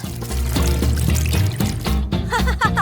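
Decorations poured into a melted chocolate fountain give a loud, close liquid pouring and trickling sound, steady then breaking into splashy bursts, with music tones running underneath.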